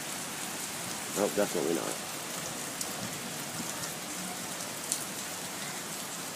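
Tropical rain on Koh Tao easing off, a soft, even patter of drops on surfaces with a few louder nearby drips, while a person speaks briefly near the start.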